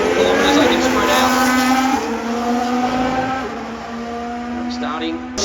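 Formula 1 cars running on the Singapore Grand Prix street circuit, a sustained high-pitched engine whine with shifting tones as cars pass, steady and fairly loud with a commentator-like voice mixed underneath.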